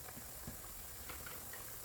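A steady hiss of boiling water and steam with faint bubbling pops from a pot of ginataang tulingan boiling on a stove, continuous and close, with no voices.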